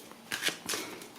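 A card slides out of an oracle deck: two quick papery swishes close by, soft and brief, over a faint room hiss.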